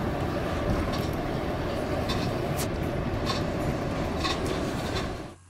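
A commuter train in Paris rolls along with steady, continuous rumbling and rattling from inside a carriage, faint clicks over the constant noise, fading out at the end.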